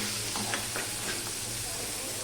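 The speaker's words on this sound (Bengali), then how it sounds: "এবার পেঁয়াজ রসুন কাঁচা লঙ্কাটাকে ভালো করে আমি ভাজতে থাকবো" Onion, garlic and green chillies fry in a pan while being stirred for a Bengali parwal dish, giving a close, continuous sizzle and hiss with faint scraping.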